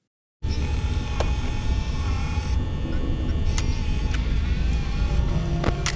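An office fan from Five Nights at Freddy's kicks in after a moment of silence and keeps up a steady, loud mechanical drone, with a few faint clicks scattered over the hum.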